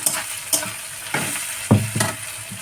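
Ground spice paste fries with onions in hot oil, a constant sizzle punctuated by several scraping stirs and a heavier clatter as the paste is worked in; no speech.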